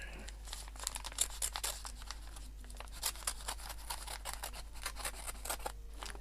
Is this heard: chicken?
no